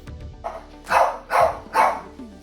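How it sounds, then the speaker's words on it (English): A dog barks three times in quick succession, moderately close, after a softer yip, with some faint background noise. "The barking, it never stops."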